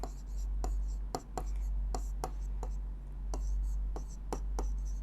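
A pen writes an answer by hand, making a steady series of short, distinct scratching strokes close to the listener over a low constant hum.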